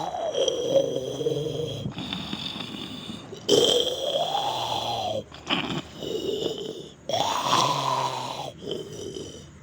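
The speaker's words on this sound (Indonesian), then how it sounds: "Kucing ini paling parah ngoroknya." A cat snoring loudly and steadily, each long rasping breath rising and falling in a slow rhythm with short snorts between, close up and with no voices.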